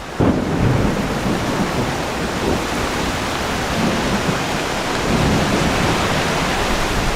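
Heavy rain pours in a thunderstorm in koala habitat, a dense, continuous hiss with low rolling rumbles of thunder, loud and close, with no talking.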